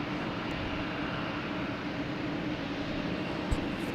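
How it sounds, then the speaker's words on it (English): A Lufthansa Airbus A340-600 airliner rolls for takeoff at Boston Logan Airport, a steady broadband engine roar that stays distant and even throughout, with no voices. "That is rolling down. It'll pop up behind these buildings here."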